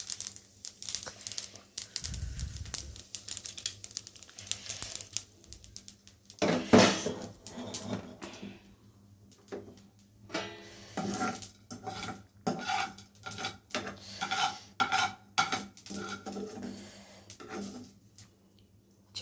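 Hot tempering of dried red chillies and chana dal is poured into a ridge gourd chutney and mixed. Crinkling, scraping and clinking sounds recur in uneven bursts, fairly close and loud.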